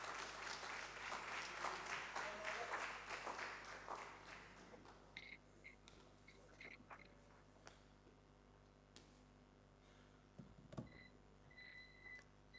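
A seminar audience of land surveyors claps to welcome a speaker, a soft, dense round of applause lasting about five seconds before fading into a quiet room with a few scattered small knocks.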